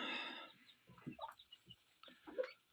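Chickens cluck softly on a small chicken farm in Astana, a few short, scattered calls sounding faint and quiet against a low background.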